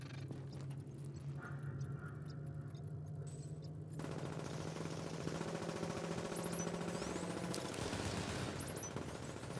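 An automated turret in the video game Last Stand fires in a continuous rapid rattle, loud and steady, with game sounds layered over it and a shift in intensity partway through.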